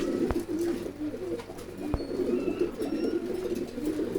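A pet pigeon at a pigeon farm coos in soft, low repeated phrases, close by, with a couple of sharp taps in the background.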